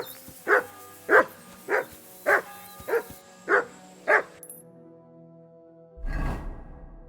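Mutt, the dog from Kingdom Come Deliverance 2, gives seven evenly spaced barks close by and fairly loud, followed by a short pause and then a muffled whooshing rustle.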